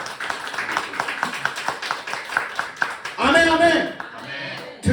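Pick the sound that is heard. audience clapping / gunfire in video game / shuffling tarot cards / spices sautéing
audience clapping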